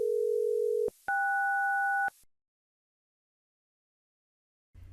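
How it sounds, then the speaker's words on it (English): A radio test set emits a steady 1000 Hz tone that breaks off for a two-tone SELCAL burst, two pitches sounding together for about a second. Then comes silence, with a faint low rumble at the very end. "you should hear the 1000 Hz tone interrupted by the SELCAL tones"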